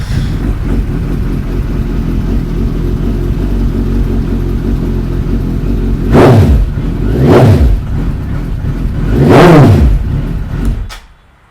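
Suzuki superbike engine running with a steady low rumble, then three sharp throttle blips that rise and fall, each louder than the idle, before the engine cuts off at the end.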